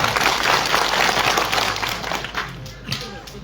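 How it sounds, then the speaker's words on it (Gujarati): Steady applause from a crowd at an Aam Aadmi Party political rally in Visavadar, Gujarat, loud at first and then gradually thinning out into scattered claps. "બધા માટે એકવાર જોરદાર તાળીઓ પાડી લઈએ આપણે"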